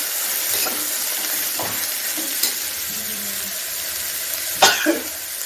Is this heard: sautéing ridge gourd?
yes